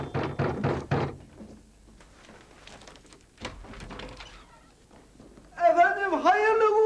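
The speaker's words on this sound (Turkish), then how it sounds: "kapı çalıyor hanım, kapıya bak." A rapid burst of several sharp knocks on a door comes first. Voices then talk over a quiet background, and a brief thud sounds in the middle before louder, sing-song speech closes it out.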